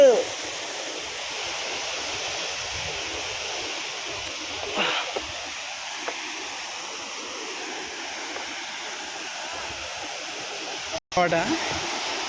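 A steady, broad rushing roar of falling water fills the whole stretch, with a couple of brief faint noises over it.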